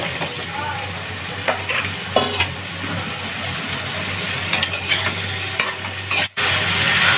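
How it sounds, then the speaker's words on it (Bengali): Bottle gourd sautés in oil with a steady loud sizzle, broken by occasional stirring scrapes and a low humming drone underneath, and no voices. "তেল দিয়ে প্রথমে আমি লাউটাকে একটু বেশ সুন্দর করে সাঁতলে নেব"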